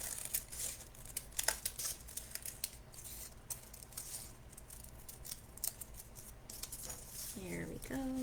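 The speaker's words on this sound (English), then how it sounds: "I'm going to rip a piece off again" Paper being ripped by hand into pieces for a collage, a series of close, crisp tearing and crinkling bursts at uneven intervals, with a voice briefly at the end.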